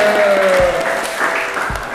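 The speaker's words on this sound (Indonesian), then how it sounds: "Tepuk tangan dulu buat Firda" A short burst of classroom applause rings out for a student during a teacher's performance-assessment lesson, the claps fairly loud and overlapping a faint sustained tone in the room.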